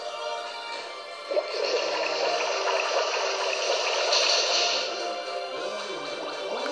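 A water jet rushes and splashes in a Pokémon game trailer, a loud continuous gushing spray that holds steady for several seconds with a brief swell near the middle, alone without talk.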